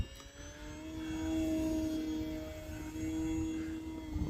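An electric Durafly Tundra V2 RC plane on 4S power flies past, its motor giving a whining tonal drone that swells and fades as it moves, moderately loud and alone.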